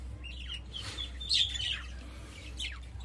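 A breeding colony of budgerigars gives bursts of high chirps and squeaky twitters over a low steady hum, several birds calling briefly close by.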